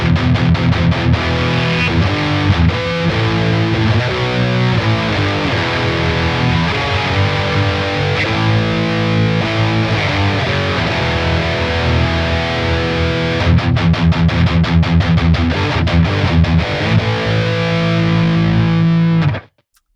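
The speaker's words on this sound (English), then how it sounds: "I'm just going straight from the guitar into my audio interface, and here's how this Archetype Rabea plugin sounds." A Harley Benton EX-84 electric guitar with EMG pickups plays heavy, thick distorted riffs through an Archetype Rabea amp plugin. The palm-muted chugs and chords are loud and continuous, then stop abruptly near the end.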